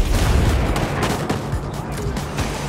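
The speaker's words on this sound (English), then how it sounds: "Mortars, find some cover." Mortar fire in Ghost Recon Breakpoint, a dense continuous rumble of booms and distant blasts heard loud and steady throughout, with a faint voice mixed in.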